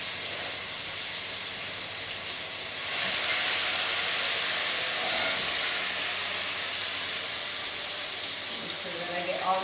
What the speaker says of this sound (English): I'm going to go ahead now and fry up my ingredients. Yes, that oil was super hot.